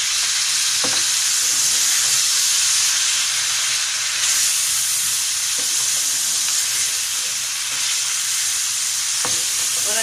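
Meat with ginger garlic paste frying among browned onions in a pot, a loud, continuous hissing sizzle with occasional faint stirring knocks, no talking.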